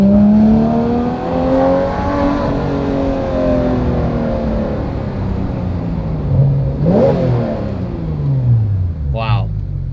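A Porsche GT3 RS engine revs up with rising and falling harmonic sweeps, loud and close, with a quick sharp rev burst near the end.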